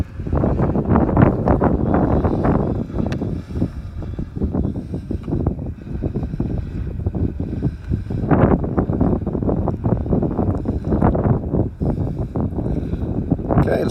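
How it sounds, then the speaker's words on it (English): Strong wind buffets the microphone at Stonehenge on a sunny day, a loud, continuous roaring rumble with gusty surges throughout and no talk. "It is very windy."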